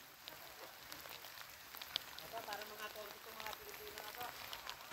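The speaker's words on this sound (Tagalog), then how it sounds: "Kita mo inuulan yung pueblo namin." Rain falling over a village, a steady broadband hiss of drops on surfaces with scattered brighter patters, continuous and moderately loud, with some faint voice-like sounds beneath.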